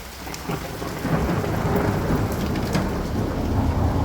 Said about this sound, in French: Oula, un bel éclair.